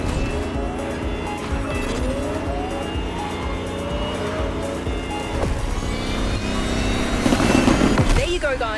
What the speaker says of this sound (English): The Lamborghini Terzo Millennio like you've never seen it before.